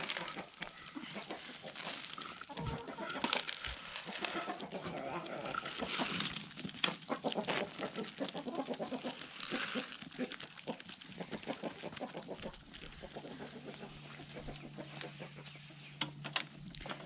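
Hens cluck around a coop during spring cleaning, soft intermittent clucks mixed with crinkling and rustling, while people talk nearby.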